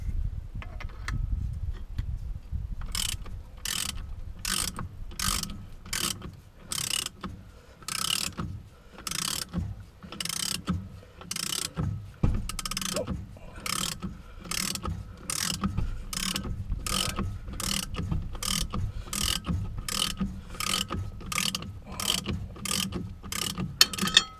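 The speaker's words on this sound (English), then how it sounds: "Okay, homemade hub puller." A homemade hub puller works on a Lancia Fulvia wheel hub, giving a long run of steady, evenly paced metallic ratcheting clicks, close and fairly loud, with no talk.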